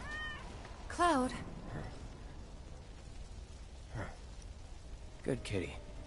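A cat in the video game Final Fantasy 7 Remake meows, a clear rising-falling cry followed by softer later mews, over quiet ambient game background.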